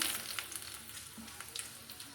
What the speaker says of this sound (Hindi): सूखी मिर्च मैंने डाल दी है। जीरा डाल दी है।